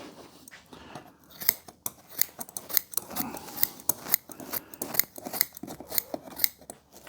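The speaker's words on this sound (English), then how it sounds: "Trim off the Lux Bond at the bottom edge there" Scissors snipping through Lux Bond upholstery fabric along the bottom edge of a rocking chair, a rapid series of crisp, close cuts with short pauses and no talk.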